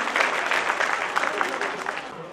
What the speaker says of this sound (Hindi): एक बार जोरदार तालियां हो जाए श्री तरुण लोढ़ा जी के लिए